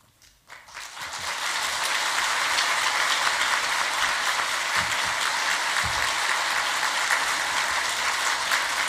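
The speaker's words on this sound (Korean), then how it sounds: "여러분들 큰 박수로 우리 목사님 맞아주시면 감사하겠습니다" A church congregation at a Christmas thanksgiving service gives big applause to welcome the elder pastor to the pulpit, swelling after a second into dense, steady, even clapping that fills the hall.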